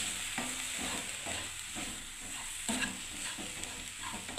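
Water is poured slowly into a pan of hot sooji for upma, sending up a continuous soft sizzle with faint scraping and stirring, and a couple of brief louder bursts, with no talk.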